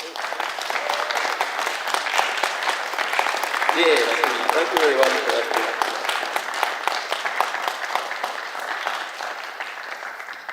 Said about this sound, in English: Keep the applause going for Miles Better